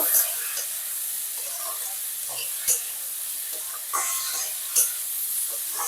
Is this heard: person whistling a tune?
no